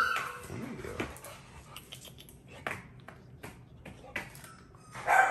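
Indoors at close range, a dog lets out soft, high whimpers and yips between scattered taps and handling noises, with a brief sharper ping near the end.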